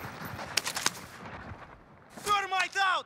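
A few sharp gunshots crack in Call of Duty Rebirth Island, spaced early in the clip, followed by a voice speaking over quieter game ambience.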